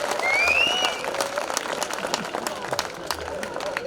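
An audience claps at a comedy laughter conference in Ujjain. The applause is sustained and dense for the whole stretch, with crowd voices and a few high whistle-like tones mixed in.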